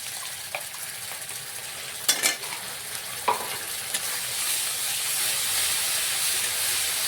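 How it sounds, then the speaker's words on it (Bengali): Ginger, garlic and green chili paste sizzles with browned onions in a pan, a steady close hiss broken by a few sharp scrapes and clacks of stirring, rising slightly toward the end. "ভালো করে এখানে আদা রসুনটা ঠিক কষিয়ে নেব, যাতে আদা রসুনের কাঁচা গন্ধটা না থাকে।"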